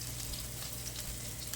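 Buffalo chicken meatballs browning in a pan give off a steady, even sizzle of frying that continues without a break, with no talk over it.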